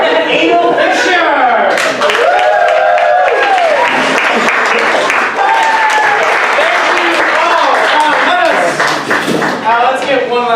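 A comedy club crowd claps and cheers loudly and continuously for a comedian, with whoops and shouted voices rising over dense, close applause.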